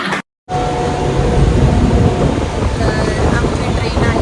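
Mumbai train gathering speed, a loud close roar of wheels and carriage rumble with wind buffeting the microphone, starting after a brief silent gap, with voices faintly mixed in.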